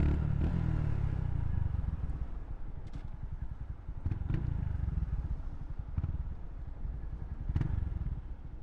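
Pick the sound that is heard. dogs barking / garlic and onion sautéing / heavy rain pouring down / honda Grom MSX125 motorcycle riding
honda Grom MSX125 motorcycle riding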